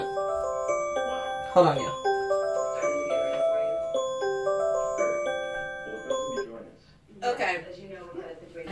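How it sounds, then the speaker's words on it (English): A repeating electronic alarm melody plays steadily in a looping pattern of tones while a person speaks briefly over it. "I had to turn my alarm off."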